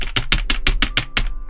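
A computer keyboard is mashed hard during a Minecraft gaming session, about eight loud, evenly spaced clattering bursts of keys in quick succession, close up with no talking.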